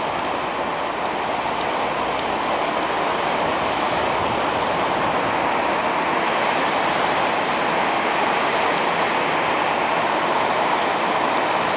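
A continuous, loud rush of flowing water, steady and broadband like a stream or small waterfall close by, with no talking.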